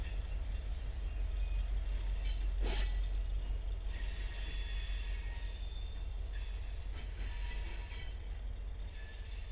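A heavy freight train with an SD70MAC locomotive as a tail-end distributed power unit rumbles steadily past, low and loud throughout, with occasional metallic squeals and clanks from the wheels.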